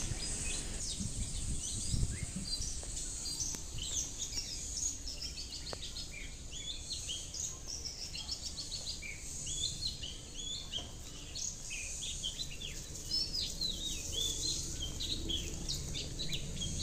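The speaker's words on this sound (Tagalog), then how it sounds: "ibon yan." Birds chirp near a nest holding eggs, with repeated bright tweets scattered over a steady outdoor background of insect hum, moderately close and without talk.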